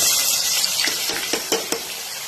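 Chopped onions dropped into hot oil for pav bhaji sizzle loudly in a pan, a steady close hiss broken by a few stirring scrapes and pops.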